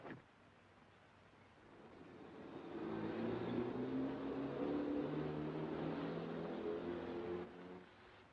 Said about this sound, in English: It's a car coming.